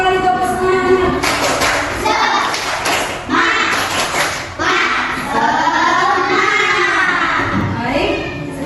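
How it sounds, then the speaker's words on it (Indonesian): Schoolchildren in a classroom perform a rhythmic spirit clap, sharp group claps in patterned bursts mixed with their chanting voices, loud and close. "Satu kali tepuk semangat."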